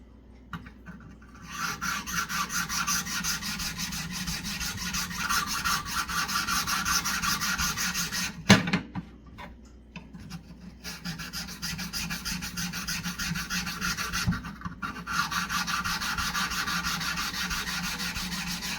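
A compass divider point scraping back and forth on a sharpening stone: a continuous close, gritty rasping rub with brief pauses and a sharp knock near the middle.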